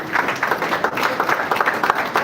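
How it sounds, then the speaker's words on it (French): Funeral mourners break into a short burst of group applause, a fairly close, uneven patter of many hands clapping that continues without pause. "applaudissements, s'il vous plaît"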